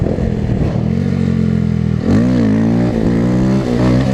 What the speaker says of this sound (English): Let's see, can we maybe pull a wheelie?